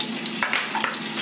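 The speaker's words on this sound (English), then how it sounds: "When it starts sizzling, which it is now, it's time to put in the asparagus." Eggs and oil sizzle steadily in a pan while cooking an asparagus frittata, a close, continuous frying hiss with a few small crackles and utensil clinks, no talking.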